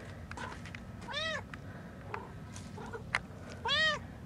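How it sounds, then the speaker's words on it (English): A small cat meows several times close by, with short rising and falling cries spaced through a quiet background and a few faint clicks and rustles. "So this little cat always likes coming next to my house."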